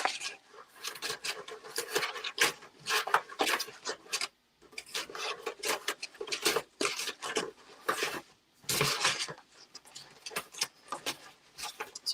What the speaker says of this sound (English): just digging for one more scrap that's going to be the right size